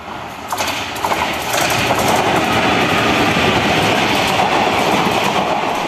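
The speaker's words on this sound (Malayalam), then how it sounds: "കാരക്കാട് റെയിൽവേ സ്റ്റേഷനിലൂടെ നിരവധി ട്രെയിനുകൾ കടന്നു പോകുന്നുണ്ട്" A train runs through Karakkad railway station, a loud, close, continuous rumble and rattle of wagons with rhythmic clickety-clack and high squeals early on, no one speaking.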